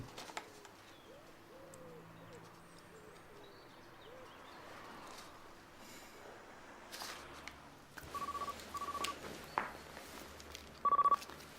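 A telephone number is dialed on a phone in a TV drama scene, a few short beeping tone bursts near the end over a faint, quiet room background.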